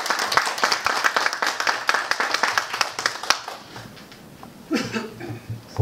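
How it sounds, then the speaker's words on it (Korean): An audience at a leadership academy lecture gives a dense round of clapping that welcomes a judge to speak, then fades to a murmur before a few louder claps and room noise return. "뜨거운 박수 부탁드립니다."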